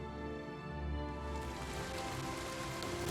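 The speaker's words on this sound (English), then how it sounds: "Maybe it's not choppy, maybe it's just the rain making weird noises." Steady rain falling in the video game Oblivion Remastered, a continuous dense hiss with a low rumble underneath, filling the whole stretch without talk.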